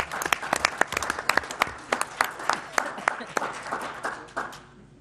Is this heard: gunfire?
no